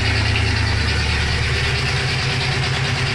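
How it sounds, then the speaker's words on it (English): A 1976 Oldsmobile Cutlass with a 455 V8 idles loudly and steadily up close, a deep, even rumble that holds throughout with no voices over it. "It idles down by itself."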